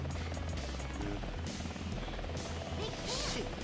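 Helicopter in the video game Sonic Adventure 2, a steady loud rotor drone with buzzing engine tone and busy game effects layered over it, with a voice talking underneath.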